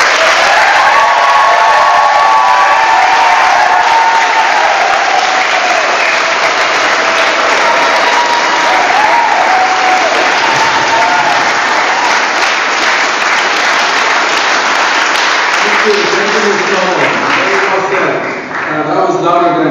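A room of attendees at a 2014 Los Angeles public hearing on a fracking ban breaks into loud, sustained applause with some cheering, which tapers off near the end as a voice begins speaking.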